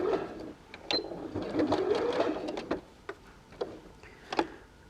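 A sewing machine stitches around the ears and across the forehead of a fabric cat purse, quiet, close, in short uneven bursts of rapid ticking with brief pauses and clicks between.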